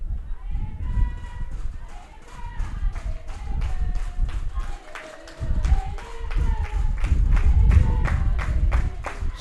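Supporters of the Quebec women's rugby team chant and clap in a steady, rhythmic beat from the stands at an outdoor match on a breezy day, a sustained crowd noise that swells toward the end.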